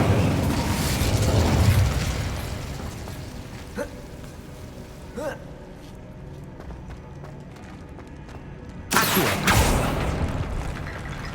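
Incendio fire spell cast in Hogwarts Legacy: a loud, roaring fiery burst that fades over a couple of seconds, a few soft thuds in between, then a second sharp, forceful blast near the end.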